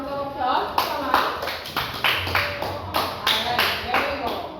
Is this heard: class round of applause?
yes